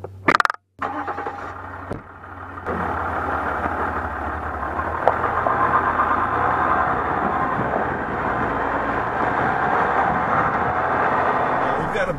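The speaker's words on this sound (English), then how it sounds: "It sounds like a diesel car engine, basically." A diesel car engine runs at a steady, fairly loud drone for most of the stretch, after a few sharp knocks and a brief gap at the start.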